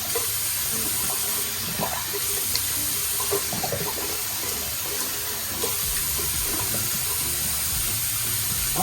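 Tap water runs steadily into a bathroom sink, a constant close splashing hiss with small gurgles and clinks, no voices.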